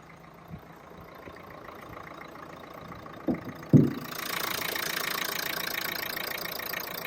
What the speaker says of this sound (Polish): teraz przejdziemy sobie do komory silnika oraz posłuchamy pracy samego silnika.